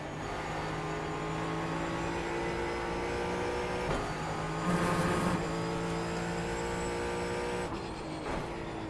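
A race car engine in a racing video game drones steadily at high revs, with slight pitch shifts and a brief burst of extra noise midway, close and continuous.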